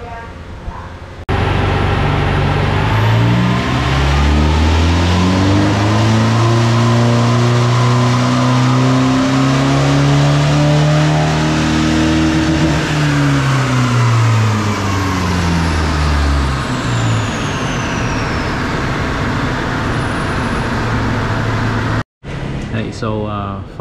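A Nissan Navara 2.3 twin turbo pickup with modified ECU software revs hard on a wheel dyno, engine tone sweeping up to a loud peak and falling back over about fifteen seconds, close and dominant, before a brief cutoff.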